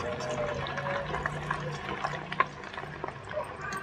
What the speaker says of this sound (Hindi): तो हम इनको सब तेल में डाल देते हैं